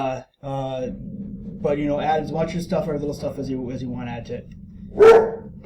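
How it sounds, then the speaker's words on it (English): A single sharp dog bark cuts in near the end, after steady talking that runs through most of the clip. "That's my dog barking."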